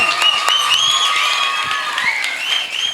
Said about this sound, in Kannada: ಕರ್ಕೊಂಡು ಬಂದಿದ್ದೇವೆ, ಜೋರಾಗಿ ಬರ್ಲಿ ಚಪ್ಪಾಳೆ